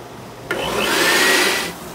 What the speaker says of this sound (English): now I'm gonna start the mixer